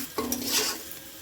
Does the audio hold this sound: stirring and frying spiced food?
yes